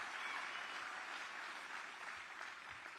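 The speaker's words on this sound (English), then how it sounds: "Give James a round of applause." Crowd applause at a political rally in Eau Claire, Wisconsin, a steady wash of many hands clapping at a distance, faint and continuous, slowly tapering toward the end.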